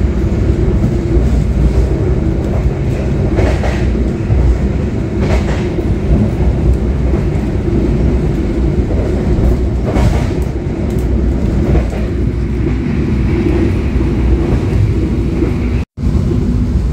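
Long-distance Kutojaya Utara train pulling into Bekasi station, a steady loud rumble of wheels on rails with rhythmic clickety-clack and wind buffeting, continuous and close with no talk.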